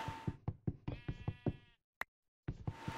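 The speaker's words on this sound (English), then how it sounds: "A sheep!" Sheep bleating in a video game: a run of short, fast-pulsed bleats, loud and close, then a sharp single knock after a pause and another bleat starting up.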